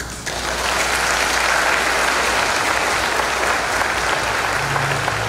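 A congregation applauds during a Sunday church mass honouring Saint John Bosco, loud dense clapping filling the space for about five seconds.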